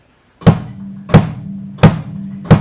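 Four evenly spaced bass drum kicks, deep thumps with a short boomy decay, played steadily and close with nothing else around them.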